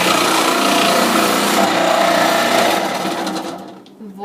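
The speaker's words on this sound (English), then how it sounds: "I'm going to put it in my food processor." A food processor whirs loudly as it chops a carrot, a continuous buzzing grind running steadily for several seconds before tapering off as it switches down.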